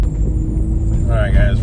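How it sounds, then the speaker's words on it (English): Low rumbling road noise of a school bus moving nearby through a neighborhood, heard briefly from inside a Ford Explorer ST. "Got a bus going through the neighborhood right now"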